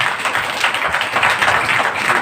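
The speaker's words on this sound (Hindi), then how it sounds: "एक बार ताली बजा करके बताएंगे" An audience at a Brahma Kumaris yoga retreat gathering in Kota claps together, a steady dense patter of many hands held at an even level for the whole stretch.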